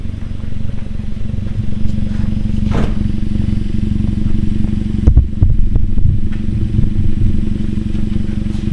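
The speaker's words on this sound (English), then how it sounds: "it's time for some revs." A Hyundai Veloster Turbo with a custom axle-back exhaust revs close by, a steady low exhaust drone punctuated by a sharp rev burst early on and a heavier throttle blip midway, with some rattly crackle afterward.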